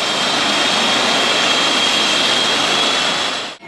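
A helicopter cabin roars from the inside during flight over a national park in the Komi region, a steady loud broadband engine and rotor wash with a high whine, ending in an abrupt cut.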